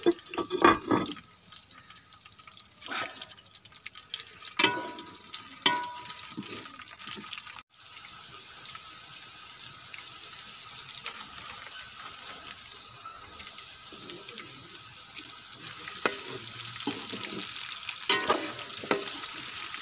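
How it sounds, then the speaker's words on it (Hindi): Okra (bhindi) sizzling and crackling in hot oil for a bhindi keema dish, a continuous close frying hiss broken by occasional stirring clatters, with no talking. "भिंडी फ्राई करेंगे।"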